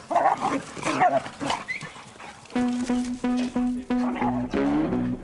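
Three dogs from an SPCA shelter bark and yip close by in a quick run of sharp, repeated bursts, with some whining. Busier mixed noise comes before it.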